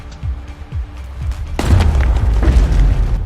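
Gunfire from the game Rain of Reflections: a few soft thumps come first, then one loud, heavy boom, followed by a deep rumbling tail and scattered impacts.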